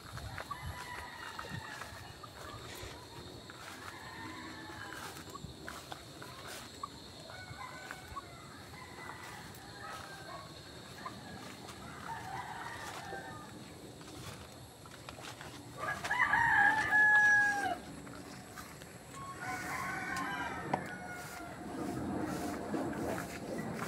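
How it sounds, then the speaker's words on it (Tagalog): Roosters crow repeatedly at a distance, several calls spaced out over a quiet outdoor background, with a few louder closer crows and faint clucking. "Maraming manok dito mga kaabay"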